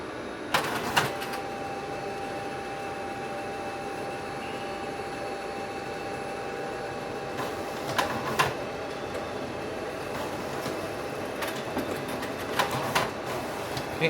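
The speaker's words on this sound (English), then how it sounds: "It'll take a minute to send it all to the printer." A Ricoh C5200s office printer with a sorter hums steadily while printing a booklet, with sharp mechanical clicks and clacks of paper feeding at intervals.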